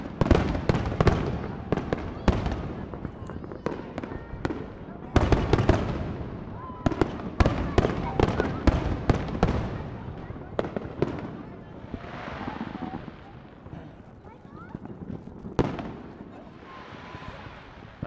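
Fireworks burst in a busy barrage of sharp cracks and deep booms at night, some close and loud, others fading, with crackling tails and quieter gaps toward the end.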